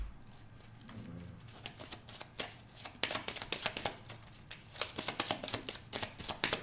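Tarot cards being shuffled by hand before a draw, quick papery riffles and taps in irregular bursts, close and fairly quiet, growing busier toward the end.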